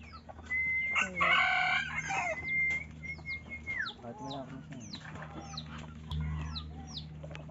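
Red junglefowl (labuyo) crowing in Calaca, Batangas: a loud nearby crow with other clucking fowl around, and further calls and a chirping bird over low background noise.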